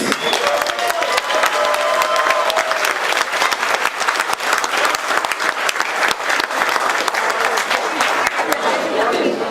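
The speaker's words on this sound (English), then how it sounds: "Please give a round of applause for correction officers in general" A dinner crowd applauding correction officers at an appreciation dinner, with sustained dense clapping throughout, loud and steady, with a few faint cheers.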